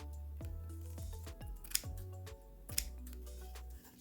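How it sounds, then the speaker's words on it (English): Scissors snip repeatedly through craft mesh on the back of a handmade pocket file. Close, crisp cuts come in a quick uneven rhythm, with a couple of sharper clicks among them. "I do need to trim off some of the mesh"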